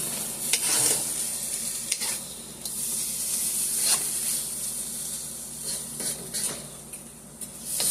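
Ground meat and onions fry in a pan, a close, continuous sizzle with intermittent scraping and clatter of stirring, no voices.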